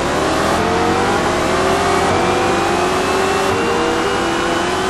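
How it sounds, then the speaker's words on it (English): Race car engine in Toca Race Driver 2, a loud, continuous high-pitched whine with rising revs and gear-change shifts, close and alone without voices. "I love the sound of the engine."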